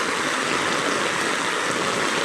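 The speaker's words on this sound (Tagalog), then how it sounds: "Kontingan lang yan, malakas na ulan." Heavy rain pours down steadily alongside rushing floodwater in a flooded residential area, a dense, continuous broadband roar with no pauses and no voices.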